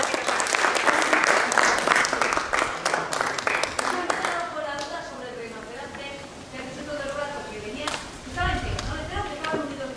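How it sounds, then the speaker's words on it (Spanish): Dense applause from a lecture audience at a paleontology conference on the Villarroya basin swells for a few seconds, then thins into scattered claps as a voice speaks over the fading crowd. "volvemos a dar un aplauso a los dos"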